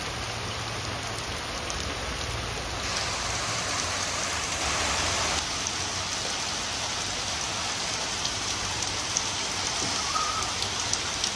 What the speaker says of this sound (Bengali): বন্ধুরা শিলা বৃষ্টি হচ্ছে